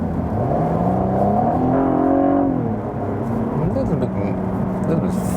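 A Cadillac ATS-V 3.6 V6 sedan in sport mode accelerates under throttle, its exhaust note rising in pitch before easing off. The engine is close and steady, with the run lasting only a few seconds.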